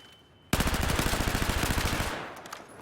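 Rapid automatic gunfire erupts abruptly in a competitive 8vs8 shooter video game match, a fast, even, loud stream of shots that runs about a second and a half before tailing off into fainter game noise.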